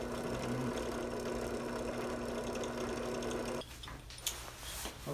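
A drill boring a hole through two stacked metal pieces while a snowbike conversion is built. A steady motor whir runs for about three and a half seconds, then stops, leaving faint clinks and workshop noise.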